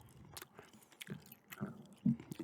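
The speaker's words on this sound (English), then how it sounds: "Doing a gum chewing" Gum chewing close to the mic, with soft wet smacks and crunchy bites in an irregular rhythm and one louder chomp near the end, no talking.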